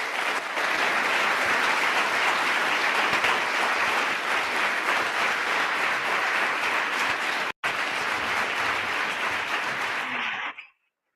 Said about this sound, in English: We need another round of applause for these two amazing speeches.